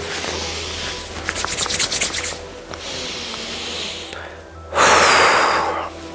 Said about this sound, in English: maybe you just want to loosen the shoulders, give the hands a bit of a rub, the face, maybe brush the hands through your body